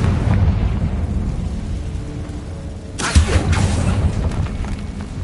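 A Confringo spell blast in Hogwarts Legacy: a sudden explosive burst cuts through steady background ambience partway through, followed by a brief crackling, rumbling tail.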